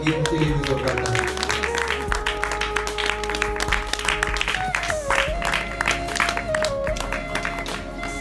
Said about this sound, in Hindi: अनीता माता जी उनका सम्मान पत्र ग्रहण करेंगी, उनके लिए भी जोरदार ताली।